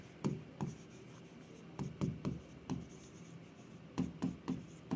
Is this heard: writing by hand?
yes